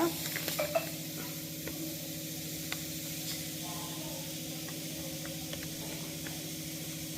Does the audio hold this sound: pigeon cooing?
no